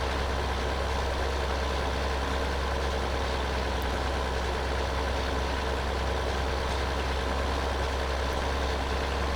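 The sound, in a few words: tractor engine in video game Farming Simulator 2013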